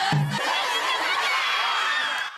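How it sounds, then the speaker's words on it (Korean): Students from two schools cheer and shout together in a dense, lively crowd at a narrow exam-hall front gate, a loud, continuous wash of many voices lasting a couple of seconds. "좁은 정문을 두고 두 학교 간의 응원 배틀."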